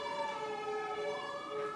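A fire truck or ambulance siren wails with a clear, steady, gliding tone that rises and falls slightly, heard moderately loud and alone for the whole short stretch.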